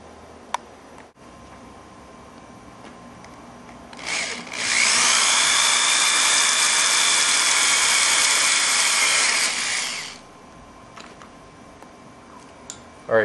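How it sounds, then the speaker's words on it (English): A power drill runs steadily for about six seconds, boring a hole with a 1/8 inch bit through the center of a small piece for a Systema PTW charging handle, loud and close, with faint ticks before and after. "take your 1/8 of an inch drill bit and drill a hole through the center of your smaller piece"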